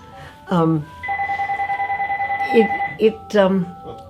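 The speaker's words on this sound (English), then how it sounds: "Do you want to just lift it off so that it stops ringing?" A telephone rings indoors with a rapid trilling electronic tone lasting a few seconds, close and fairly loud, while people speak briefly before and after it.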